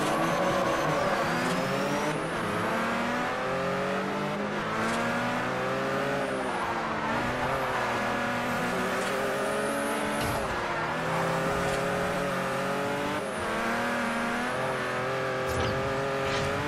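Race cars in the Forza Horizon video game roar continuously with rising and falling engine revs, gear shifts and brief tire squeal, loud and steady throughout with no talking.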